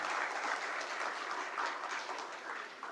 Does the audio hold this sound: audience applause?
yes